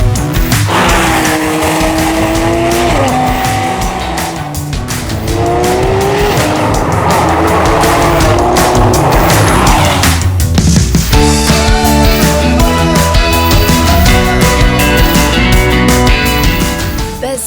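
A Porsche 911 GT3 RS is driven hard on roads around Roquebrune-Cap-Martin, its engine loud and close, revving up and down through gear changes while the tires squeal repeatedly through corners.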